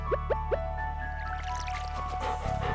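Watering a pet dog's bowl in Stardew Valley: three quick, crisp liquid drip-splash blips in a row, followed by soft squishy trickling over a steady game backdrop.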